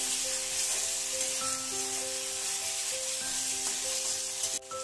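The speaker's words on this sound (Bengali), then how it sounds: "তো গ্রেট করা আদা রসুন দিয়ে আবারও ভালোভাবে ভেজে নিচ্ছি" Grated ginger and garlic frying with tomatoes for a spinach and lentil dal, a steady close broadband sizzle with faint rubbing stirs and a few tonal squeaks, nearly unbroken until a brief dip at the end; no talking.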